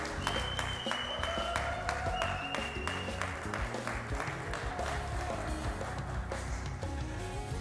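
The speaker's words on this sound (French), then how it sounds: "Sous vos applaudissements" Audience applause welcoming the sound engineer at the finale of a talent show, a steady wash of clapping mixed with music, holding at an even level throughout.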